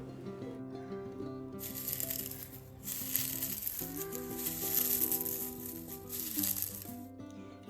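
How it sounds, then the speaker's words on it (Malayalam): Drumstick (moringa) leaves crackle and sizzle in a pan, a dry rustling fry heard over steady tonal music, faint and continuous. "ഇപ്പോൾ കേട്ടില്ലേ സൗണ്ട്? ഇതുപോലെ വേണം കേട്ടോ മുരിങ്ങ ഒന്ന് വറുത്തെടുക്കാൻ വേണ്ടിയിട്ട്"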